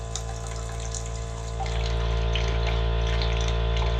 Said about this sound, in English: It's just straight water right here. There's so much water in those lines.